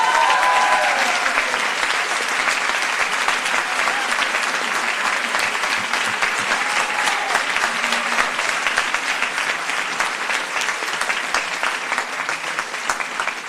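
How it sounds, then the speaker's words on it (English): Sustained applause from a graduation ceremony audience honoring award winners, dense and steady clapping at full volume throughout with no break. "Ladies and gentlemen, can I have a round of applause"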